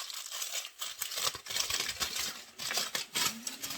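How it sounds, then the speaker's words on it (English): Continuous crinkling and rustling of aluminum foil being crumpled and smoothed, crisp and close, with no speech. "I actually like to crumple my aluminum foil and uncrumple it, kind of like this."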